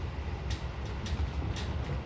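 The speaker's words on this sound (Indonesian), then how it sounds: "Kereta Argo Dwi Pangga saat ini sedang melintas langsung di stasiun Buto Arjo ya" An Argo Dwipangga passenger train passing straight through Butuharjo station without stopping, heard as a continuous loud rumbling roar with rhythmic clacks, close by and unbroken by talk.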